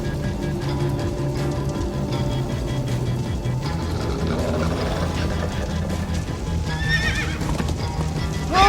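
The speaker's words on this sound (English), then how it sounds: "Slow down, horse!" A horse in Minecraft: Story Mode gallops with steady clip-clop hoofbeats under a constant rumble, then lets out a neigh toward the end, mostly without talk.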